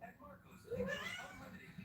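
A pet cat meows indoors with a rising, drawn-out call near the middle of the clip, fairly close, with voice and room noise around it.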